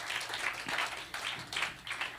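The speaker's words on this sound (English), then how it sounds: "Just clap your hands and thank him for the blessing." Church congregation clapping hands during a revival service, a dense wash of applause swelling in uneven waves across the moment, fairly steady and crowd-wide with no single clapper standing out.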